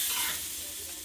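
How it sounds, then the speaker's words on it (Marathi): Vadas frying on a hot tawa give a steady, close sizzle with a broad hiss that runs unbroken and eases slightly after the first moment. "तवा तापल्या आता आपण याच्यात असे वडे काढून घेऊ."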